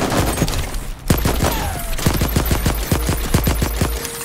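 Rapid automatic gunfire in the video game Voidtrain, with loud, close bursts of dense shots that pause briefly and then resume in quick rhythmic strings.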